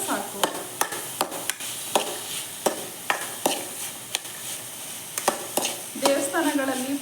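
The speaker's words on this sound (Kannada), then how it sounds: "ಮಸಾಲೆ ಚೆನ್ನಾಗಿ ಹೊಂದ್ಕೊಳ್ಳೋ ತನಕ ಫ್ರೈ ಮಾಡಿಕೊಂಡ್ರೆ ಸಾಕು." Masala for chickpea usli fries in a pan, a steady close sizzle broken by repeated sharp spatula scrapes and knocks as it is stirred, with a louder burst of crackling toward the end.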